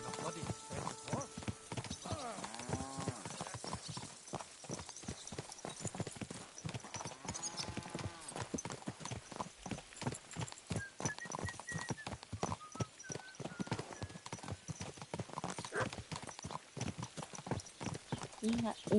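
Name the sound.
horse hooves clip-clopping in Kingdom Come video game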